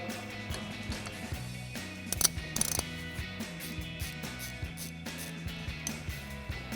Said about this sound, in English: Now we can take our 16mm socket and remove these two bolts